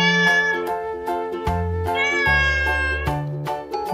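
A cat meows repeatedly in short, clear calls over a simple musical backing, close and distinct.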